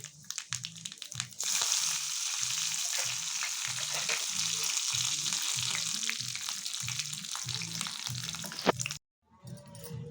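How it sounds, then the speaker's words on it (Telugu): Mustard seeds, cumin, garlic and dried chillies crackle and sizzle in hot oil for a Telangana raw-onion thokku tempering, a loud, steady frying hiss that cuts off abruptly near the end, with soft rhythmic thumps underneath. "ఆవాలు జీలకర్ర వేసేసిన, నూనె కాగింది"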